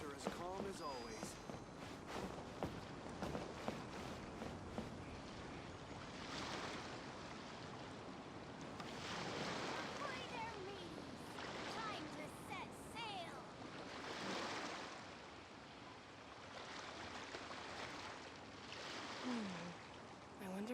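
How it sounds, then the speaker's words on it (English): Calm ocean waves wash steadily in the game Genshin Impact, a soft continuous surf swelling and fading under game sounds and talking. "The waves are as calm as always."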